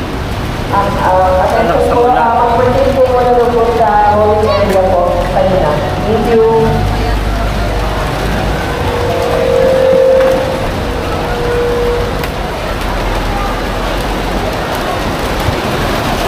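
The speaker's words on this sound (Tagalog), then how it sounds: "Ayan na ang ulan." Steady rain falls during an outdoor school recognition day ceremony, a broad continuous hiss that persists throughout; a voice speaks over it early on and a brief tone sounds midway.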